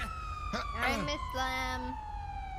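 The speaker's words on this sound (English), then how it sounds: "Do you mind turning your sirens off?" Police car sirens in the GTA 5 video game wail and sweep in steady rising and falling tones under a nearby voice speaking briefly.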